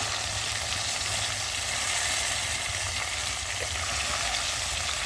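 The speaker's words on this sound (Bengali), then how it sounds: "দেখো বন্ধুরা, এদিকে মাছ ভাজা হচ্ছে" Tilapia fish fries in a pan of hot oil, making a steady, moderately loud crackling sizzle throughout, with no talking.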